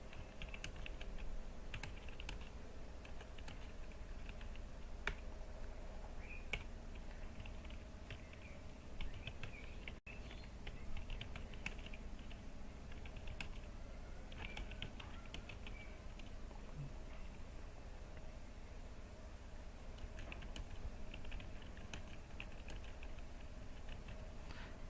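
Keys tapped on a computer keyboard while two lines of a gig welcome message are written, a steady run of light clicks over a constant low room hum, with no voices.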